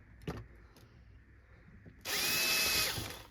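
Power drill boring a hole into the body of a Ford Transit Custom van, a sharp high whine starting abruptly after a few quiet knocks and holding close and loud for just over a second.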